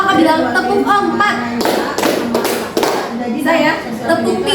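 A group of children in a school group counseling session clap in a counting game, giving a short run of sharp, evenly spaced hand claps between stretches of talk.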